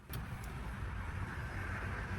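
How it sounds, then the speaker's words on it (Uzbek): Busy street traffic comes in through the open windows of a Lixiang car as a constant low roar, with a faint hiss and rumble and no talking. "Men derazalarni ochaman. Shovqinni eshitning qanaqa darajada ko'p."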